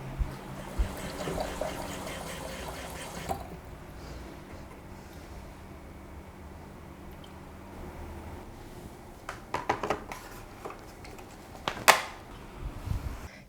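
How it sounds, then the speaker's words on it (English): Water runs into the clean-water tank of a Xiaomi Dreame H11 Max wet-dry vacuum, a steady close trickling splash that drops lower partway through, followed by a few plastic clicks and knocks. "let's fill this up with water"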